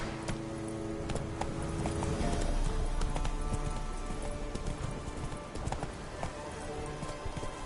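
Horse hooves clip-clopping under a rider in The Witcher 3, a dense, continuous patter of hoofbeats with a steady rhythm, set against background game ambience.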